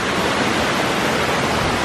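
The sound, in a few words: waterfall in Costa Rica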